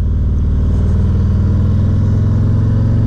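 A police motor officer's motorcycle pulls out of a slow, leaning curve and accelerates, its engine droning loud and close with a rising, throaty rumble and no voices.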